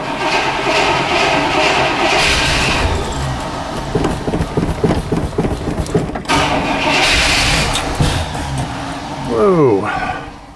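A 1966 Cadillac DeVille Convertible is being started in spring after sitting, with gas priming and flames. The starter cranks in a steady rhythmic churn, then the big engine catches and roars up before easing off, loud and close.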